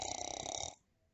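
A storyteller's voice imitates snoring with one loud, rasping, buzzing inhale that stops abruptly into near silence.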